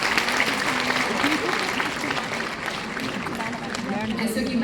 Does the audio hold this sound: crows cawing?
no